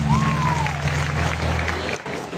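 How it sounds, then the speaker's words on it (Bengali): Audience clapping at a Bangladeshi 21 February Language Day programme, a short burst of applause from a crowd alongside sustained music tones, cutting off briefly near the end. "সবাই তাদের জন্য জোরে হাততালি প্লিজ।"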